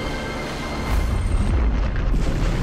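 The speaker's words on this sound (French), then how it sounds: "une explosion nucléaire massive" A massive nuclear explosion: a deep, rumbling boom swells up after a quieter hiss, with heavy low-end roar sustained for a couple of seconds.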